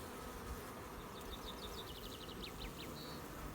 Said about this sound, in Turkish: Arı yoğun bir şekilde polen getiriyor.